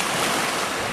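Cold wind and rough sea water at the Billudden shore, a loud, steady roar of surf and gusting wind over the microphone, with no voices.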